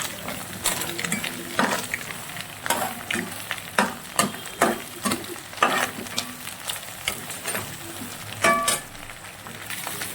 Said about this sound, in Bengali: কিছুটা পরিমাণ ম্যাগি মশলা দিলাম, দিয়ে এটাকে নাড়াচাড়া করবো।